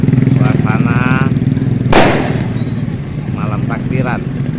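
Fireworks set off by residents in a crowded street on the eve of Eid al-Fitr give one sharp, loud bang amid constant engine rumble and a busy crowd, with people talking throughout.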